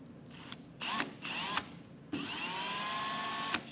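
A small handheld power drill whirs in short bursts, then runs steadily, boring pilot holes in a pickup truck bed with a small bit, fairly close.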